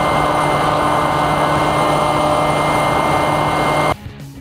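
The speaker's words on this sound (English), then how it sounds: "This is what it looks like from the ground as the aircraft flies away rapidly." Krossblade SkyProwler 2 aircraft in fixed-wing mode flying rapidly away, heard from the ground as a loud, steady motor and propeller whine that stops abruptly near the end.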